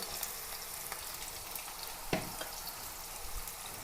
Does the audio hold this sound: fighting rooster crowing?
no